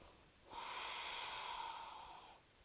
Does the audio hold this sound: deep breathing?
yes